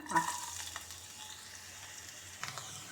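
Green chillies and onion fry in a pan while preparing chicken kurma, giving a soft, steady sizzle with a few faint stirring scrapes, quiet and continuous throughout.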